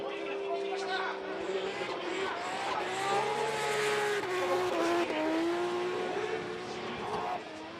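Drift car at full throttle on Fuji International Speedway during qualifying, engine wailing loud and sustained with rising and falling pitch as it swings through corners, tires squealing, with commentary talking over it throughout.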